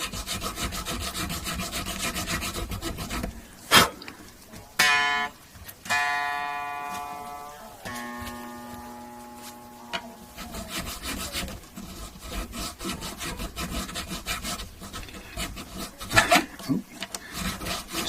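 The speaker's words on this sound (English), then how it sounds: "Going to get probably quite deep cut slots in this, but then we can reshape the whole nut afterwards" Fine saw or file strokes cutting string slots into a bone guitar nut on a 1980 Kay K30 Les Paul copy, a close, steady back-and-forth rasping with a few knocks and a ringing string tone midway.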